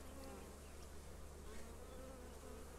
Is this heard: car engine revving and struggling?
no